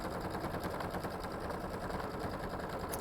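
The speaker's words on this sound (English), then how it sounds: "I'm just going to start and sew." A sewing machine stitches steadily through a rag quilt lined up with tape, a continuous even running hum with fast needle rhythm, close and unbroken throughout.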